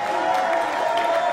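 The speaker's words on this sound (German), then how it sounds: "Macht mal Applaus für Niki Stemmler" Crowd applause and cheering at a darts event, a steady dense wash of clapping and voices that fills the whole moment without pause.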